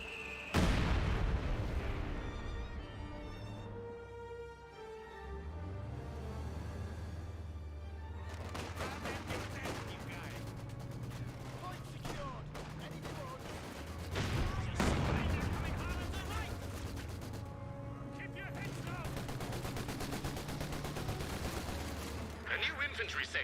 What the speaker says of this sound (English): Another Panzerwerfer barrage.